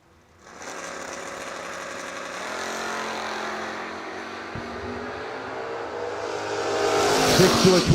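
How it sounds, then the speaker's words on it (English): Sean Fuller's drag racing car at the Octoberfast Bracket Nationals, its exhaust roaring up from quiet into a loud sustained blast that climbs further near the end. "Sean Fuller's got one of them exhausts that you just go, oh yeah, that's the sound"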